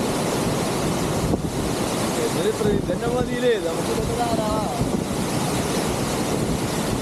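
A large forest waterfall at Attappadi roars as a constant, heavy rushing wash, with wind buffeting the microphone and a person talking over it.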